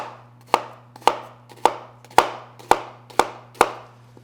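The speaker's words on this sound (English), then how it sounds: "So when you're dicing an onion" A knife dices an onion on a cutting board in seven crisp, evenly spaced chops about half a second apart, close and clear over a faint steady hum, with no talking.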